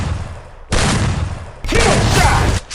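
Video game gunfire comes in two sustained automatic bursts, close and loud, with a short quieter gap between them and low background noise underneath.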